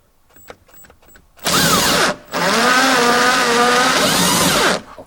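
An electric impact driver removing a car's rear tail light bolt, a few faint ticks followed by two loud close-up bursts of whirring and hammering, the second one long and steady.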